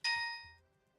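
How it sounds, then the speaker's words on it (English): A single clean, pitched chime rings out for the gold ring pickup in the video game Braid, a bright metallic ding that sustains briefly and fades within about half a second, heard alone. "The actual sound effect of the ring in real time"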